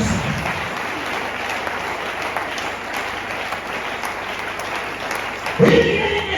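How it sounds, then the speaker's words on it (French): Congregation at a church service applauding together, a steady sustained wash of clapping throughout, with a brief louder swell and voice near the end. "Acclamez s'il vous plaît"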